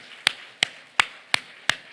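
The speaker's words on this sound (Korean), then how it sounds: "박수로 영광" Clapping during a church worship service in Seoul, Gimpo: five sharp, evenly spaced claps in a steady rhythm, crisp and close with quiet gaps between.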